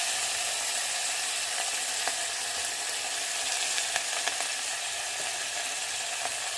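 Ginger garlic paste sautés for a mutton curry, giving a bright, constant sizzle up close, broken by light clicks and scrapes of stirring.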